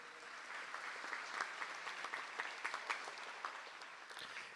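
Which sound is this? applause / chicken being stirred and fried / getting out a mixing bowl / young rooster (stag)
applause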